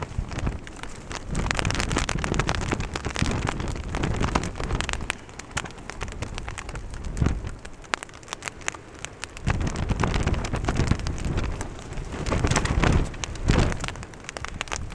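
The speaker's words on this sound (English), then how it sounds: "that's the rain starting back up again" Steady rain patters down on surfaces at a windy wild campsite in Scotland, swelling and easing in intensity, with a dense hiss that fills the whole stretch.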